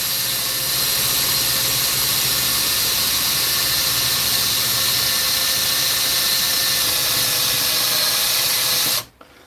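A power drill bores steadily into smoking wood, a loud, continuous high-pitched whining squeal for about nine seconds before cutting off abruptly.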